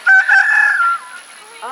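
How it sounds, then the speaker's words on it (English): A rooster on a farm crows once, a loud, close, drawn-out call lasting about a second before trailing off. "That sounds like a rooster."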